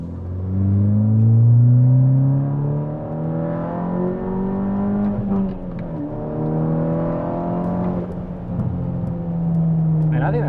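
A VW MK6 GTI fitted with a CTS Turbo downpipe accelerates on a road, its engine note climbing steadily through the rev range, loud and close, with a gear change midway and the pull continuing.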